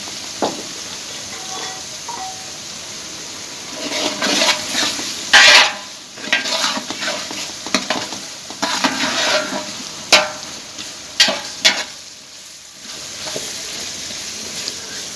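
Potatoes frying in a pan for aloo matar pulao, stirred with a utensil: a steady sizzle with irregular scraping strokes and clinks against the pot, moderately close and alone.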